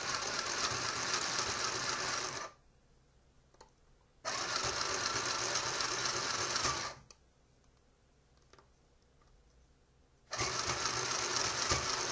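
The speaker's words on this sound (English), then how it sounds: "And so I'm going to sew them together." Sewing machine stitching plush fabric pieces together for a plushie, three loud close bursts of fast, steady whirring separated by quiet pauses.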